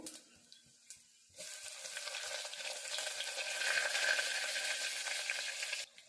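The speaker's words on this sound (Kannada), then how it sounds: "ಇವಾಗ ಎಣ್ಣೆ ಕಾದಿದೆ, ಅದಕ್ಕೆ ಸ್ವಲ್ಪ 1 ಸ್ಪೂನ್ ಅಷ್ಟು ಜೀರಿಗೆ ಹಾಕೋಣ. 1 ಗೆಡ್ಡೆ ಅಷ್ಟು ಬೆಳ್ಳುಳ್ಳಿ ಹಾಕೊಂತ ಇದ್ದೀನಿ." Cumin seeds and garlic hitting hot oil for a North Karnataka-style rosy dock sambar, a sudden loud sizzle that bursts in after soft clinks and holds steady, crackling, before cutting off near the end.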